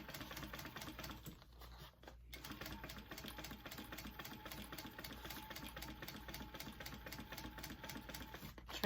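Sewing machine stitching a vinyl mini backpack, running steadily and close with a continuous rapid mechanical whir and brief pause near two seconds, no talking.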